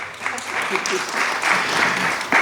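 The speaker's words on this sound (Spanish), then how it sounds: "Por ahí hay aplausos, pero si no, nuestro productor se encarga de ponerlos" An audience applauds at a language-centre event, with a steady wash of clapping that rises and falls under a voice talking throughout.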